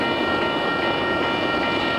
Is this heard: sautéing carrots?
no